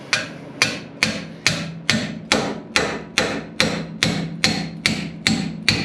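Repeated hammer blows on a pickle fork driven between a car's front steering knuckle and an old ball joint, about fourteen sharp metallic strikes in a steady rhythm, loud and close with no talking.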